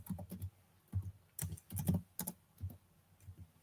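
Keys on a computer keyboard are tapped to enter a terminal command, producing close, distinct clicks in short irregular bursts separated by brief pauses.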